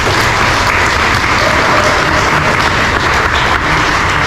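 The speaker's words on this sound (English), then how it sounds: "Let's have a round of applause for Sharp." Loud, dense applause from an audience at an evening event in a public library in Newark, continuous clapping throughout without pause.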